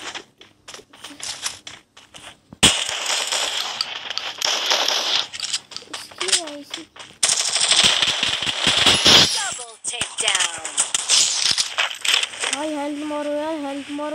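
Free Fire mobile battle royale gameplay with bursts of gunfire and sharp impact crackles, broken by a gap and sudden loud stretches. Game sound effects and tonal chimes fill the end, and a voice talks at moments.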